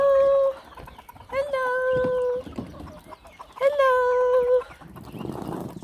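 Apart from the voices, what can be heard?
chickens clucking as they are let out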